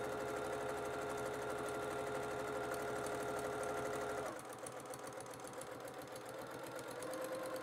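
A sewing machine runs continuously, stitching around fabric edges while making a composition book cover. The motor hums close and steady, dropping to a slightly softer, rattling pace partway through.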